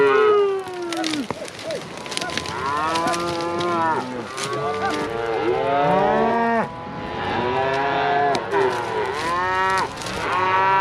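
Cattle moo loudly and repeatedly on a drive to the mountain, many overlapping calls from a herd of cows and calves rising and falling, some near and some farther off, with constant rustle beneath.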